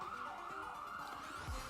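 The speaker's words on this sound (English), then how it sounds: "Y'all hear them sirens?" Sirens wail outside, distant and muffled, a steady wavering emergency-vehicle tone under room noise for a couple of seconds, with no one talking.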